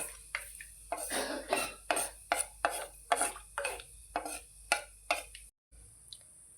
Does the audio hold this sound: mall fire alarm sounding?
no